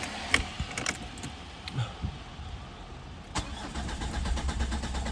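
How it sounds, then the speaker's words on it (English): A warm car engine cranks for a while, with whirring starter bursts and clicks, then catches and settles into a steady idle that fills the last part, close and fairly loud. "So it did start, but it took quite a bit of cranking when it was warm"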